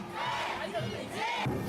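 Around three hundred marchers chant together during a candlelight protest march in Gangbuk, Seoul, led by a traditional pungmul percussion troupe, with a steady, loud crowd roar swelling in waves throughout.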